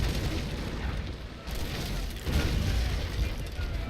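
Ship cannons in Naval Action, fired during a fleet battle against an Indefatigable: dense booming rumble of broadside fire rolling on throughout, with a heavier burst of blasts swelling near the end, loud and close, no voices.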